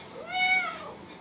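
A cat lets out a single clear, close meow that swells and fades within about a second, with no voices over it.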